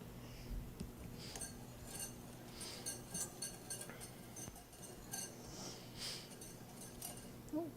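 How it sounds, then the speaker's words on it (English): A metal whisk beats ingredients together in a bowl for a simple college-kitchen recipe, giving faint, steady clinking and scraping against the bowl in quick irregular strokes, with no talking. "take our whisk and kind of whisk that all together"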